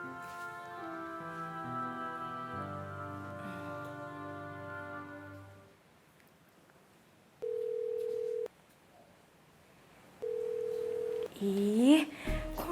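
A phone rings with no answer: after a short musical passage fades, two long electronic ring tones sound alone with silence between them, then a sharp rising squeal ends the clip.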